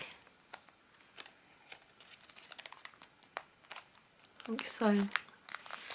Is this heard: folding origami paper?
yes